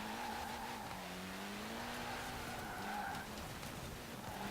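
A car in Forza Horizon 4 understeers through a circuit corner, its tyres squealing and skidding in long wavering tones over a steady engine drone, sustained for several seconds with no voices.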